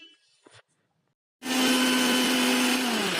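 A kitchen mixer grinder pulverises soaked soybeans with salt, starting abruptly after a moment of near silence and running as a loud, steady whirring grind until the end.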